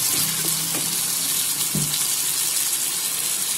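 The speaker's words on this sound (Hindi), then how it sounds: "चिकन को भूनते हुए 4 से 5 मिनट हो चुके हैं।" Chicken frying in a pan as tomatoes and green chillies go in, a steady broadband sizzle running throughout with a few brief clinks and scrapes early on, close and fairly even in level, with no talking.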